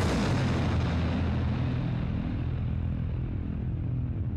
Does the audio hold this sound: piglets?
no